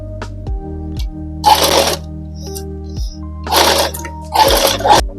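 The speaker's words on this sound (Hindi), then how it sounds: "जो मैंने निशान लगाया उसी पर हम सिलाई लगाएंगे।" A sewing machine stitches straight palazzo pant fabric in three short bursts of rapid whirring, separated by quiet pauses with a few light clicks and taps; close and fairly loud, with no talking.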